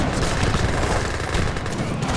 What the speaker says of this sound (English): Let's see if the Gatling camels can do anything.